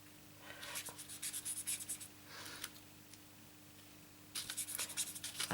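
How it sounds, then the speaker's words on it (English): A blender pen rubbed on a scrap of paper to clean colour off its tip, giving soft, close scratchy strokes in short bursts separated by pauses, with a faint steady hum underneath. "I used a blender pen and I just took off the colour, cleaned it off on a bit of paper on the side here."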